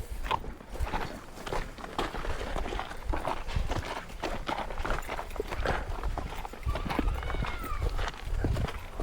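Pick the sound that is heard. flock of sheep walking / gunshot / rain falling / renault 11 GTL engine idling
flock of sheep walking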